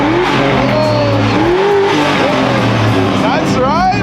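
A loud car engine at a local car meet revs hard with rising and falling whines and some tire squeal, close and dominant, while people talk and shout over it.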